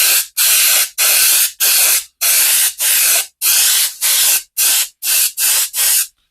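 Airbrush at high air pressure spraying a thick weathering wash onto a scale model, giving loud bursts of hissing spray that come about twice per second and stop sharply between triggers.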